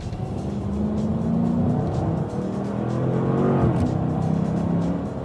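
A 2012 Dodge Charger R/T muscle car engine drones steadily and loudly, its pitch swelling and easing as the throttle shifts, close up and continuous for several seconds.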